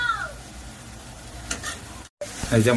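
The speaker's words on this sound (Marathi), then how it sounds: "तर आपण हे सर्व मिश्रण परतून घेऊया, एकजीव करून घेऊया सर्व।" A veg noodle mixture with Schezwan sauce is stir-fried in a hot pan, giving a soft steady sizzle with scraping and tossing sounds that grow louder near the end after a brief gap.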